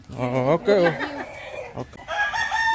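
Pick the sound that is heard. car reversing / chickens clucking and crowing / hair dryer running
chickens clucking and crowing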